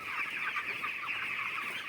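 Chickens cluck steadily while pecking at grain, a close, continuous busy murmur of hens with no talking.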